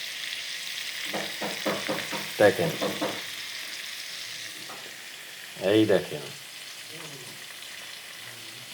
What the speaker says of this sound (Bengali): দারুণ মাছ ভাজা হচ্ছে।